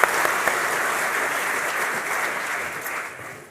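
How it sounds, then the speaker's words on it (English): Audience applause for a representative at a technology and earning-power conference opening, a steady dense roar of clapping that holds through most of the stretch and thins slightly near the end. "A round of applause, please"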